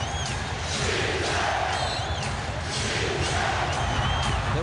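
A basketball arena crowd roars through a Western Conference Finals Game 7 between the Trail Blazers and Lakers, a dense, steady din of cheering and shouting with swelling surges, loud and continuous throughout.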